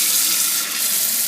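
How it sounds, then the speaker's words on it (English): Tap water pours steadily into a container to rinse sprouting seeds, a close, continuous splashing rush that is loud and holds even throughout the short burst. "Fill it full of water,"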